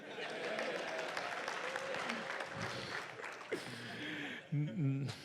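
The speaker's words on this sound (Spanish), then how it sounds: "Otro aplauso a Lielson" A church congregation applauds during a pastor's sermon, a steady spread of many hands clapping, somewhat distant, fading after a few seconds as a voice resumes speaking.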